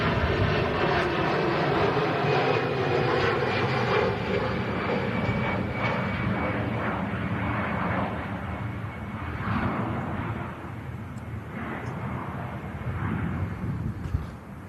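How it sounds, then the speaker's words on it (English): A Vueling jet departs for Barcelona, its engine roar loud at first and slowly easing off as it climbs away, steady and alone without talk. "Vueling out to Barcelona on the departure now as well."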